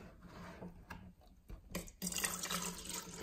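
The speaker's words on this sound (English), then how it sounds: "Let's pour some water in." Spring water pours into a small TDS test cup, starting as scattered splashes and drips, then building to a steady, louder trickle in the final second.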